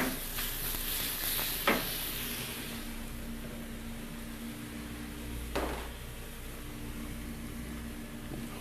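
Pork chops saute in butter on a stovetop with a soft, steady sizzle and two brief sharp clatters, no talking.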